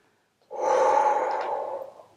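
One long, close breath exhaled in time with an abdominal exercise, starting abruptly after a short silence and fading out gently over about a second and a half.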